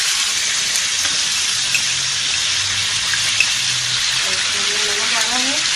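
Chicken karahi fries in a pan, Hyderabadi style, with salt added: a steady, close, continuous sizzle with faint stirring scrapes and a brief voice near the end.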